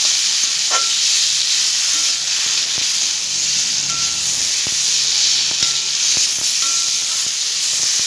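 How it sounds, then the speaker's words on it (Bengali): Drumstick stems being sautéed in a pan with green chilli, ripe tomato, salt and turmeric for a Bengali fish curry, giving a steady loud sizzle with intermittent stirring scrapes throughout. "এই ডাটাগুলো একদম কষি"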